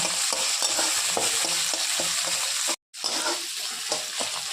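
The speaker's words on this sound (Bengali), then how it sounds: "আর হলুদের গুঁড়োটা দিয়ে দিচ্ছি। দিয়ে আগে ভালোতে ভাজা করে নেব।" Food frying in a pan with salt and turmeric powder added, a steady sizzle with repeated stirring scrapes, loud and close, with one brief gap.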